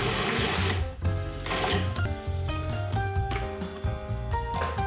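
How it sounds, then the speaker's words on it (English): A food processor pulses parsley and oregano, its motor whirring loudly in short repeated bursts with brief dips between pulses. "Add parsley to the food processor."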